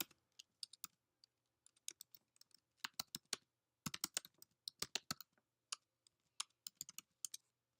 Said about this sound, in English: we are going to type in just a fake domain here